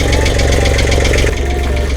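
A boat's diesel engine idles with a steady, knocking chug, loud and close, running evenly from start to finish.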